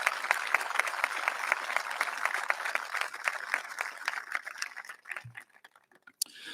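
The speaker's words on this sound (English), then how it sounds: "Let's give them all a round of applause" An audience claps at a dean's retirement ceremony: brisk, close, evenly paced claps that thin out and stop after about five seconds, followed by a single late clap.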